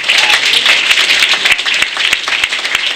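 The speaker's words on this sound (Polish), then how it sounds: "także wielkie brawa dla niego" Dense, steady applause from an audience at a Polish carnival-season community gathering of a women's association and seniors' club, many hands clapping continuously and fairly close for the whole stretch.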